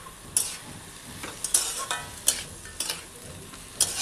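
Food being stirred in a pan right after milk and sugar are added, with repeated spoon scrapes and clinks over a soft sizzle, close and moderately loud.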